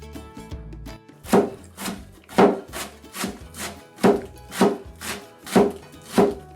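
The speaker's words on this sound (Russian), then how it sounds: "Весь шпинат мы просто сжимаем в руке и мелко нарезаем" A knife chops spinach steadily on a board, about a dozen crisp, evenly spaced strokes close up, with no talking.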